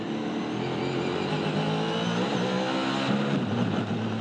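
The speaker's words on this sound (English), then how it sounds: "As soon as he got to top RPM, sounded like it sucked the valve, and that'll be the end of his day" A Chevrolet race car engine at top RPM, failing after sucking a valve, gives a loud, continuous, strained roar that holds steady close by, with no voices over it.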